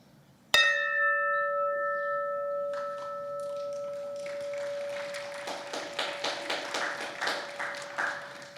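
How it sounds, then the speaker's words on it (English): A bell rings out once at a press conference, a sharp bright strike whose clear tone rings on and slowly decays, followed by scattered applause and clapping. "I'm ringing the bell to draw attention to the need for other students like me to have the opportunity to go to college"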